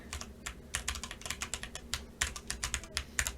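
Close-up typing on an RK89 mechanical keyboard with a hollow-sounding case, irregular bursts of rapid keystrokes in quick clusters with short pauses, crisp and alone without speech.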